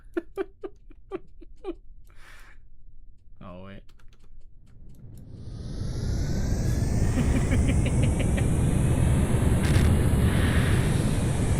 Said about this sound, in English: It's actually a jet-powered boat